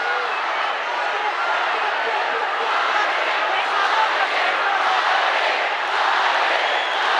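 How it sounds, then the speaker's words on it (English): A dense arena crowd at a boxing match roars and cheers steadily for Mairis Briedis, a broad, sustained wash of voices with slight swells and no break. "the crowd here trying to encourage Mairis Briedis with every ounce of energy that they can muster"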